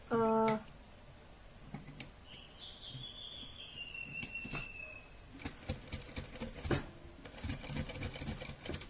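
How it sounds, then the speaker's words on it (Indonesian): A sewing machine topstitches a baby frock in short runs of rapid mechanical stitching, mixed with fabric handling, brief clicks and taps at close range. "Kita akan jahit tindas bagian atas dan bagian bawah saja untuk mengunci"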